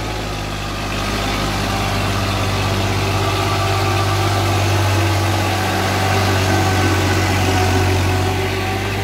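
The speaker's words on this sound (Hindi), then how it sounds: "फर्गुसन 7250 रेत लेके काफ़ी ऊंची घाट चढ़ते हुए" A heavy Massey Ferguson 7250 DI tractor engine drones steadily under load, hauling sand up a steep hill road, a deep low rumble that strains and swells slightly, loud and close with no talking.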